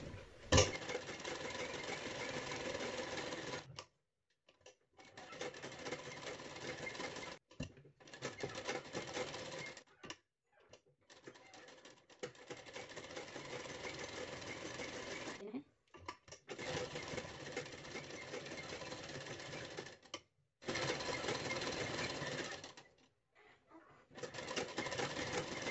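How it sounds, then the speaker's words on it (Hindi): A sewing machine runs in long steady bursts with short pauses between them while stitching the neckline of a net blouse, close and even-toned throughout. "उसके बाद गले पर सिलाई लगा देना है।"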